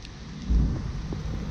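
Heavy rain falling in Dorogawa village, a steady wash of close, dense downpour with a low rumble swelling partway through, continuous and without voices.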